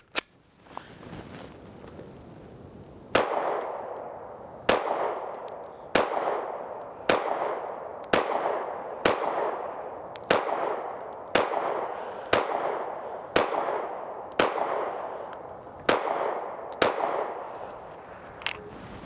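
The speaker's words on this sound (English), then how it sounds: "13 rounds on target, and then we'll let Lauren, and then I'm gonna swap over and do the 380" A Smith & Wesson Equalizer handgun fires about fourteen shots at a target seven yards away, each a sharp, loud crack with a ringing decay, spaced at a steady, unhurried rhythm of roughly one shot per second.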